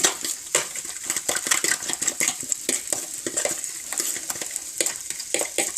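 Fork stirring a no-salt seasoning mix in a dish, with quick, irregular clinks and scrapes of metal on the container, close and fairly steady throughout, no voices.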